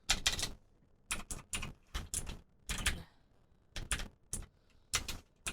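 Keys clack in quick bursts on a keyboard, several short clusters of sharp close taps separated by brief pauses, with no voices.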